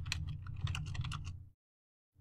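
Keys clatter on a computer keyboard running Kali Linux, a quick close burst of typed strokes lasting over a second before stopping into silence.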